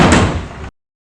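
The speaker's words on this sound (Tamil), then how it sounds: "எதுக்கடா இத்தனை தடவை கதவை தட்டுறா?" Quick burst of knocking on a door, loud and close, stopping abruptly after about half a second with silence afterward.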